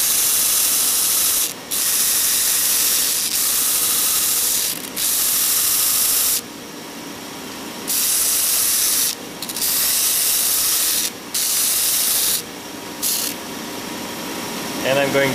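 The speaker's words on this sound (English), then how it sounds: "I'm going to sand them down till they're the same." Wooden salad tongs being sanded to equal length on a power sander, loud rough rasping bursts of several seconds each separated by brief gaps, close up and with no talk.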